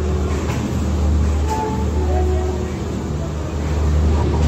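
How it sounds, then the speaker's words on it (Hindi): The SMVT Bengaluru–Bhagat Ki Kothi Superfast Express stands at a railway platform with a continuous low rumble and hum, faint tonal whines drifting through the station din. "ये जो ट्रेन है दोस्तों वहाँ पे खड़ी है, SMBT बेंगलोर टू भगत की कोठी सुपरफास्ट एक्सप्रेस।"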